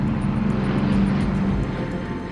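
A Boeing B-29 bomber, the Enola Gay, drones in flight with a steady, dense propeller-engine roar that holds evenly throughout.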